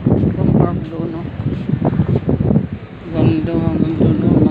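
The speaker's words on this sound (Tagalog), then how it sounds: "Lakas ng hangin dito." Strong wind at an open park beside a mall buffets the microphone with heavy, gusty rumbling while a person talks over it.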